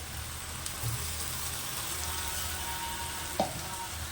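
Poppy seed paste fries in a pan, a close, steady sizzle and crackle with a couple of brief clinks of a utensil, no voices.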